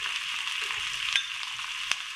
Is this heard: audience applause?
no